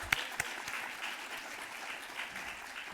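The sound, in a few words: applause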